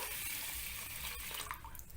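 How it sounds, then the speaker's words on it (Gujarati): Water pours steadily into a mix of soaked rice and fenugreek seeds for dosa batter, a soft continuous splashing hiss that is quiet and unbroken. "તેની અંદર પાણી ઉમેરીશું"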